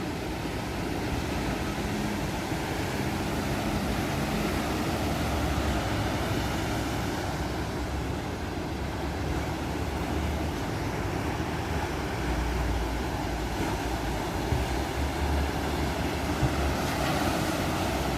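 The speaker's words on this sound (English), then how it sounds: "I love the sound of the waves." Ocean waves break on a beach at high tide, a continuous broad wash of surf that stays fairly quiet and steady throughout with no voices.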